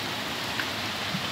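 Wind-driven rain striking a door, heard as a constant close patter of water with a couple of slightly louder drops.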